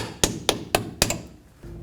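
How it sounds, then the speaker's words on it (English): Four sharp metallic hammer strikes at an even pace, close by, tapping a dust cap into a 2007-14 Chevy Silverado front wheel hub, followed by a faint extra tap and quiet. "Don't forget about your little dust cap here. Hammer that back in place."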